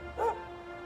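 A dog in the video game Dragon Quest XI Echoes of an Elusive Age lets out a single short, bright bark over a quiet, humming game backdrop.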